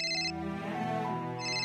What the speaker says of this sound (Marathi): स्वीटूचा फोन येतोय